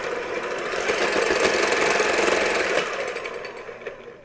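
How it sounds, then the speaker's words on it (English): An electric hand mixer beating blueberry muffin batter until frothy runs as a steady, buzzing mechanical whir, close and fairly loud, fading as it slows near the end. "we're going to take our electric hand mixer and I'm going to beat these until it's frothy"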